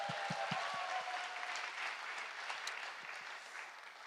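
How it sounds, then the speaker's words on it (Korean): A church congregation applauds in a steady, dense patter of many hands clapping, fairly loud at first and tapering slightly, with a few stray voices mixed in. "박수."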